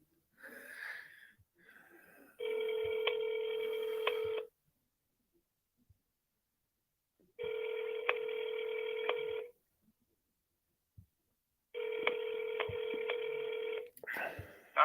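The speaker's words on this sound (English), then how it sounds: "It's ringing." A telephone ringback tone for a call to Nacho. Three steady ring bursts of about two seconds each sound with long silent gaps between them, and brief soft breathing comes before and after.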